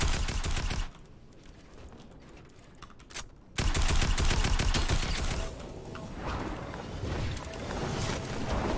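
Automatic gunfire from a video game shooter, rapid bursts of rattling shots that cut out briefly then resume, loud and continuous with a short gap in between.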